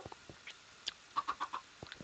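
Chickens kept inside a house in a video game cluck in a quick run of four soft, evenly spaced calls, with a few faint clicks and taps around them.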